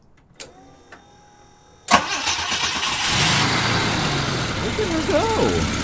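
A 1973 Volvo 164 cranks over briefly and catches, its engine firing up and settling into a rough, steady idle close by, with a few faint clicks before the start and a voice speaking over the running engine near the end.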